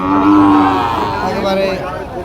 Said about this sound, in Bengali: সাইয়াল গরু